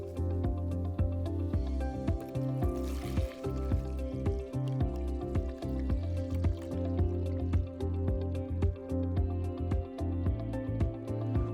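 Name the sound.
pouring disinfectant chemical into a flex liner bag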